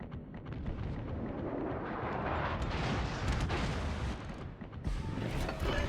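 Warship guns firing in World of Warships, heavy booming salvos layered over continuous rumble, with several distinct blasts standing out near and loud.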